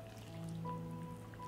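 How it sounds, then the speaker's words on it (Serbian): Cold water poured into a glass jar over salt, dried seasoning and sweet ground paprika, a soft steady trickle and splash that fills the vessel, heard up close and alone. "I nalivam hladnu vodu."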